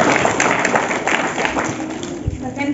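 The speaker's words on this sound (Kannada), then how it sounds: "ಚಪ್ಪಾಳೆ ಹೊಡೀರಿ ಜೋರಾಗಿ" School audience applauding at a quiz competition after a correct answer, a loud dense burst of clapping mixed with talk and shuffling.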